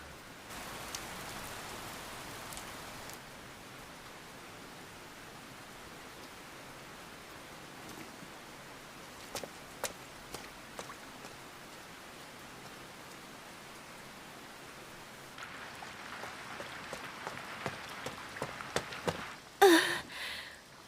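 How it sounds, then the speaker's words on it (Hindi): Heavy rain pours down in a constant broad hiss, with scattered louder drops and taps growing busier toward the end, and no voices over it. "बारिश शुरू हो गई है।"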